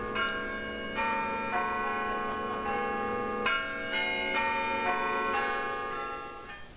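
The chimes of St. Peter's church ring out from high in the tower, a steady sequence of resonant bell notes struck about every half second, each ringing over the last, clear and alone.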